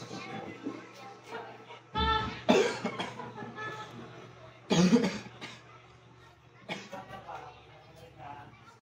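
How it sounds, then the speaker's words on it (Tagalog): Several coughs, two of them loud and harsh bursts, come between stretches of quieter talking and background noise. "Matagal na pala yung ubo mo."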